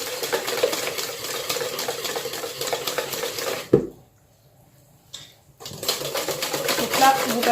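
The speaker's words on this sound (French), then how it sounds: "Donc là, on incorpore bien la matière grasse." Fat being beaten into biscuit dough in a bowl, a fast continuous scraping and slapping of the mixing, close and loud, briefly stopping midway before resuming.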